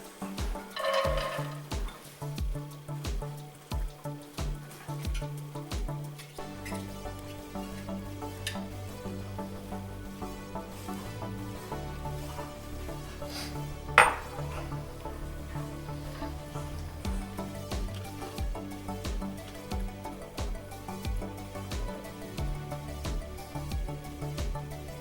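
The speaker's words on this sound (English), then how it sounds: "I'm going to fry half a cup each of chopped carrots and onions" Half a cup each of chopped carrots and onions frying in a pan over medium-high heat: a steady sizzle with rhythmic scraping and tapping of a utensil early on, then continuous crackling under soft background music.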